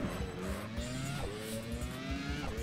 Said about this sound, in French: Et vous vous rendez compte que le son moteur est quasiment le même hein, que la Ferrari,